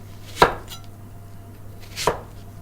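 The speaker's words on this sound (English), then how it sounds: "So I peeled my onions and the garlic. Now I'm gonna cut them" A knife cutting through peeled onions and garlic on a board with two sharp, separate chops about one and a half seconds apart, close and crisp, with quiet in between.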